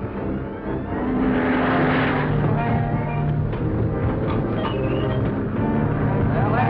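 Airplane engine drone in a 1941 film, a steady loud propeller-like roar filling the scene, with voices talking over it.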